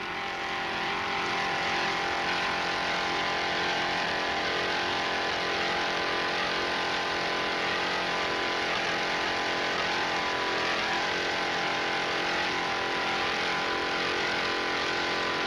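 Offshore racing powerboat engines roar at the 1995 Miami Beach Grand Prix, a dense, continuous loud drone of multiple high-revving motors holding steady throughout.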